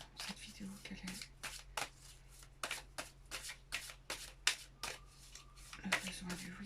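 A deck of cards riffled and shuffled repeatedly in quick rhythmic bursts of flapping and snapping, close up, with a person talking quietly over the shuffling.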